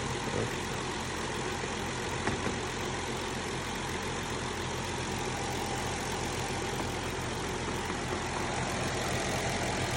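A car engine runs steadily at close range during A/C compressor work, a constant broadband hum and rumble with no clear rev rise as the gas pedal is pressed, and no voices.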